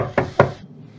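Two firm knocks on a door, a quarter second apart, sound fairly close in a quiet room over a low background hum.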